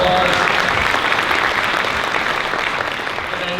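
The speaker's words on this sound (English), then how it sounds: "Let's give them a quick round of applause." An audience at a community fundraising event claps for student volunteers, a steady round of applause that holds evenly and tapers slightly toward the end.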